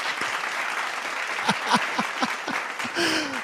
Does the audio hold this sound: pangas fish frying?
no